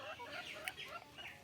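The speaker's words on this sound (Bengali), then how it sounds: "আমার এখানে তোমার 4টি মুরগি, একটি মোরগ আছে" Desi hens and a rooster cluck softly from a small backyard flock, faint and continuous with a light background hiss.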